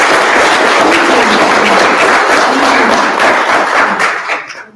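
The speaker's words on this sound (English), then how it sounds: "Round of applause." Dense, continuous applause from a town hall audience, a steady wash of many clapping hands that holds loud for several seconds before tapering off at the end, with no talking.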